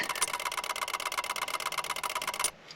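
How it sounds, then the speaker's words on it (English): A V8 car engine runs steadily at idle for over two seconds, a rapid even pulsing thrum that stays close and loud, then cuts off abruptly near the end. "we needed one last hurrah to fire up our V8"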